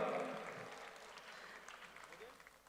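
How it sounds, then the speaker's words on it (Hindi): An audience claps at a film launch event, a loud burst of applause at the start that slowly fades into scattered clapping, with a voice speaking over it. "ताली बजावत रहो, थोड़किन दे रहा हूं।"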